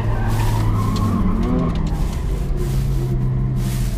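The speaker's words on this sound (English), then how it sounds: "That's the SVJ doing some donuts in the car park." Lamborghini Aventador SVJ spinning donuts in a car park, its engine droning loud and steady with revs rising and falling while tires screech and skid throughout.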